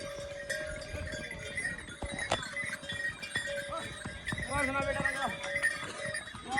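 A horse walks on a mountain trail toward Kedarnath, hooves clip-clopping in an irregular rhythm with faint jingling bells and scattered voices around it.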